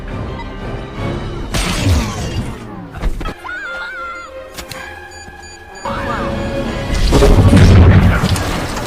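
A bomb detonating in the science-fiction film Tomorrowland, loud crashing and shattering debris rolling through the scene with a heavy rumbling blast building toward the end, set among tense electronic tones.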